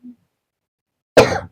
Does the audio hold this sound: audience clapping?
no